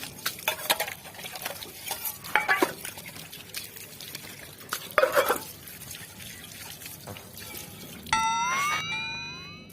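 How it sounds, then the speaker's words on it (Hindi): Pots and dishes being washed and scrubbed by hand in a Rajasthani home kitchen: water splashes and stirs, and utensils clatter in irregular bursts, ending with a rising tonal whistle-like sound. "बर्तनियां धोना है"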